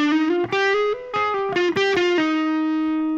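A distorted electric guitar plays a fast legato run of hammer-ons and pull-offs from a solo. The notes are loud and close and shift in pitch, and the run ends on a sustained held note. There is no talk.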